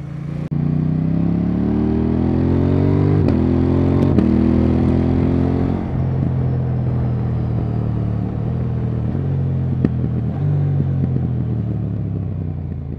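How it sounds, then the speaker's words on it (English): A KTM 890R Duke fitted with an Akrapovic slip-on exhaust, with its 2,000-mile-old, nearly two-year-old engine revving up and down through several swells before settling into a steady, loud rumble close by. "so you folks who are looking at getting some exhaust for your KTM, let's listen to what it sounds like"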